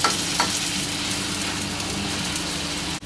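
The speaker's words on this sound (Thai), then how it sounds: "หลังจากผัดไปได้สักพักเราก็จะใส่น้ำลงไปนะ" Pumpkin stir-frying in a hot pan gives off a steady, close sizzle with faint scraping from stirring, continuous for about three seconds before a brief drop at the very end.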